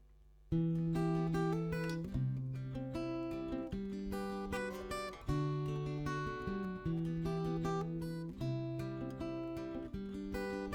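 Strummed acoustic guitar chords in a steady rhythm at moderate tempo, ringing and close, with regular chord changes and no voices.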